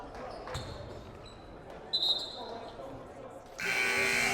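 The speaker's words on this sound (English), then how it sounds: "we have a buzzer coming out of a Mohawk timeout" Buzzer sounding at the end of a timeout during a boys varsity high school basketball game in a gym, a loud sustained electronic tone entering near the end over steady crowd noise and indistinct chatter.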